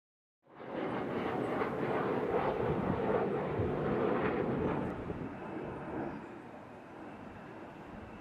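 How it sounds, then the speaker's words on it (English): Aircraft flying in toward Venezuela, heard as a loud, steady broadband engine roar that begins abruptly, holds for several seconds, then eases to a lower continuous rumble. "these are just planes that are coming in to Venezuela"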